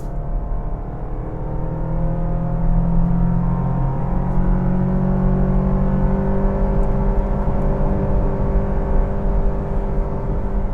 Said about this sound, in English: It's only when you start to push the Baleno, that's when you can start to hear the engine.